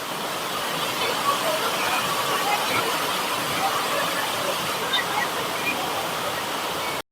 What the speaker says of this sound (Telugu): ఈ వాన చూడండి, మొత్తం వాటర్ అంతా అయితే లోతట్టు ప్రాంతానికి అయితే వెళ్ళిపోతూ ఉంటాయి తిరుమలలో.